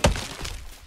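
An axe chops wood in LEGO Fortnite, making a single close, sharp hollow thunk that fades quickly.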